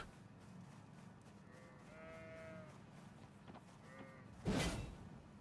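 Sheep bleat in the video game Elden Ring, a couple of wavering cries in the middle over a low ambient hum, followed by a brief loud burst of noise near the end, with no talking.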